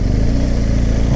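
BMW R1250GS Trophy rally motorcycle engine running steadily while riding, a low throbbing drone with a continuous loud rumble and no pauses.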